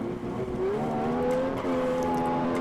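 In a rally racing video game, a Porsche 911 GT3 RGT's engine revs and climbs through gear changes, steady and fairly close. A co-driver's pace notes run underneath.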